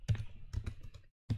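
Close, quiet typing on a computer keyboard while entering Linux network bonding configuration, a quick irregular burst of key clicks, a short pause, then more keystrokes.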